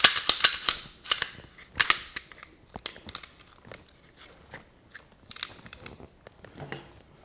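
Tapping and scratching on a variety of tactical gun holsters, close and crisp clusters of sharp taps and clicks, busy at first and then sparser with scratchy rustles between, no talk.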